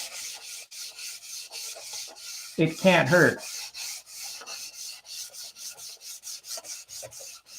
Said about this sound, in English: sanding it with 600